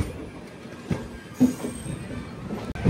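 A train pulled by a WAP-7 locomotive runs past with a moderate, continuous rumble and a few sharp clacks from the wheels, no talk.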